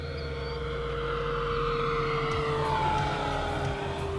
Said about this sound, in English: Let's get it in low and fast.